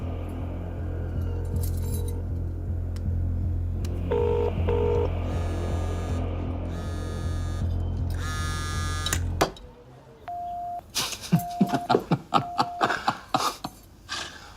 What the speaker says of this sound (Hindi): चल फोन लगा उसे।